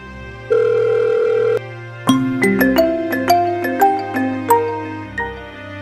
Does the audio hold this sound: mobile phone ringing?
yes